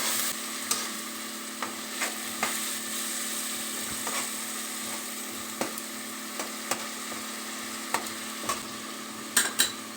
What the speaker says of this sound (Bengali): দিয়ে এটাকে ভালো করে নেড়ে মিশিয়ে নেব।